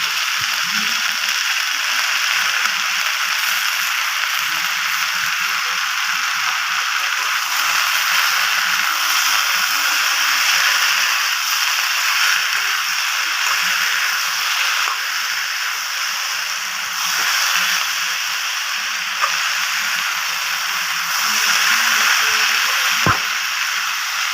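Raw tomatoes go into a frying mourala fish curry, giving a steady, close hiss of oil sizzling that runs unbroken, with faint stirring scrapes underneath and no voices.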